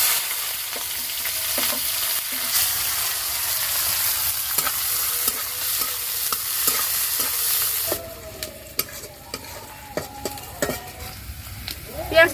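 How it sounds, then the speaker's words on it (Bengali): Chopped onion frying and stirred in hot oil with bay leaf and dried chilli for an echor chingri curry: a steady close sizzle for about eight seconds, then quieter frying broken by spoon scrapes and clinks against the pan. "পেঁয়াজটা ভাজা হয়ে গেছে।"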